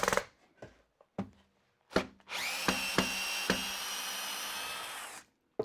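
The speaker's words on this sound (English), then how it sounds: "So I'm going to back that screw out and put a shorter one in." A power drill backs a screw out of wood on a tablesaw infeed support, giving a sustained whirring burst of about three seconds with sharp knocks and clicks of handling before and during it.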